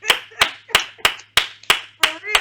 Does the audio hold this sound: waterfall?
no